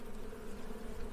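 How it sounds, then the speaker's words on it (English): Honeybees buzzing near a rocky Texas hillside, a steady, close drone with a slight wavering pitch, heard alone and unbroken for a moment. "They are honeybees."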